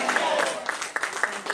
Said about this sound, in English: Come on, give Jesus a hand clap of praise.